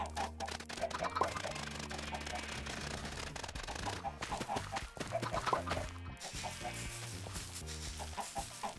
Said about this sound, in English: All right, our chickens are coming along nicely here.